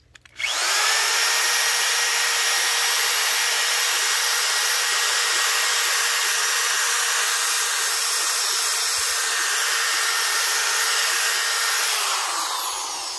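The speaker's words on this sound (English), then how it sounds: "let's get the drill and the wire brush and see what that does" Power drill spinning a brand-new wire wheel against a rusted chrome wheel, a steady loud high-pitched whirring scrub held for over ten seconds, starting and stopping abruptly, no talk.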